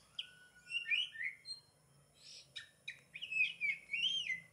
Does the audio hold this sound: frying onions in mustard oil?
no